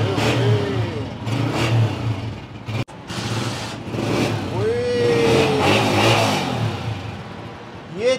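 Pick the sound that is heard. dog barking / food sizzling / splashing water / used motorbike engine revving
used motorbike engine revving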